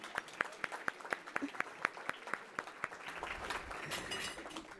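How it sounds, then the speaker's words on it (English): An audience claps politely in a short burst of distinct, evenly spaced claps that thicken briefly into scattered applause before fading. "Yes, we can clap if you would like that."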